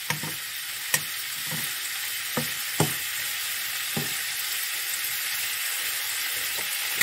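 Meatballs frying in a pan until caramelised, a steady close sizzle with sharp pops and crackles at irregular intervals, no talking.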